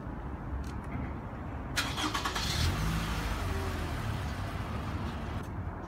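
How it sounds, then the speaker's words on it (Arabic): A car engine starts with a brief cranking burst, then settles into a low, steady idle rumble, heard close against a noisy background. "شغل السيارة."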